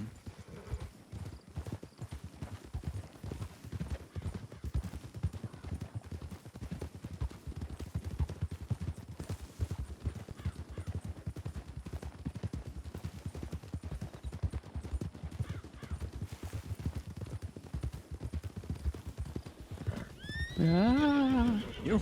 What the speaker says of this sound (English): Some wild horses coming up.